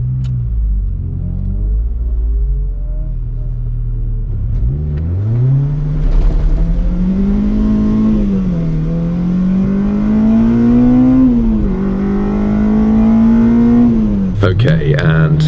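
A Honda Civic Type R EP3 engine on a race track, loud and close from inside the car, droning low and then climbing steadily in pitch as it accelerates, with a brief gear change near the end; a voice talks over it.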